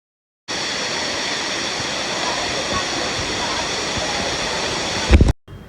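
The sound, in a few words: Kantolampo cascading waterfall over rocks in Bali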